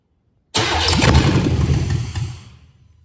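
A 1970 GMC 2500 truck engine with a rigged fuel pump cranks loudly and continuously for about two seconds, a steady churning whir close by that then fades out, with no voices.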